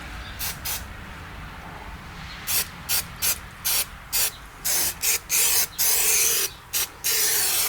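Spray adhesive applied to a car interior panel in a series of short, loud, close hissing bursts of varying length, coming faster and longer toward the end over faint background hum.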